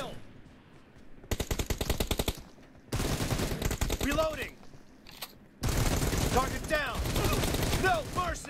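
Automatic-rifle gunfire in the mobile game PUBG Mobile comes in loud, rapid bursts separated by short pauses, with a voice and other game sounds heard between and under the shots.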